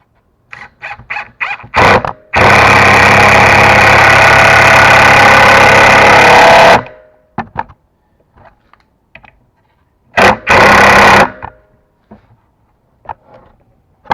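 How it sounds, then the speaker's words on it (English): An impact driver sinks a 3-inch screw into wood in a loud, close, rattling burst of about four seconds, then a shorter second burst, with scattered clicks and handling knocks around them. "Back to the impact driver. 3-inch screw."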